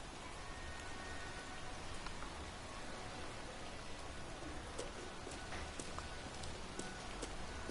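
Steady heavy rain from a storm in the video game Heavy Rain pours down in a continuous wash of noise, with scattered sharper drips and splashes standing out, no voices.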